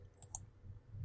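Two small, soft clicks of a computer mouse in quick succession, quiet over faint room noise.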